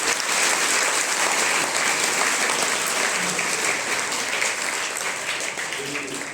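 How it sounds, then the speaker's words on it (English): Loud, sustained applause from a school audience at a foundation day celebration, cheering class 7 students after their performance; thick, continuous clapping with faint voices mixed in, easing slightly near the end. "A big round of applause for class 7."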